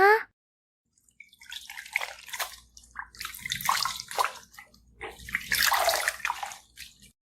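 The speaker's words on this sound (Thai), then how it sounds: "ใช้ผ้าชุบน้ำเช็ดตัวให้นะ" A cloth being dipped and wrung in a basin of water, close and intimate, with bursts of splashing, dripping and trickling separated by short pauses.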